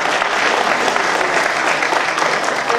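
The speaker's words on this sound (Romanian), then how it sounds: "așa că să aplaudați" A seated audience at a Christmas writers' gathering in Bacău claps loudly and steadily, with dense, even applause throughout.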